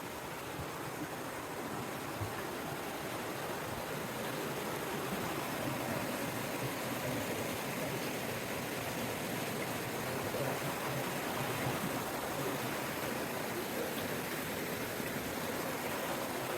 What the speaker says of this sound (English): It's a river.